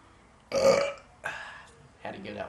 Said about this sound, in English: I'm drinking and I'm fucking belching my ass off, dude.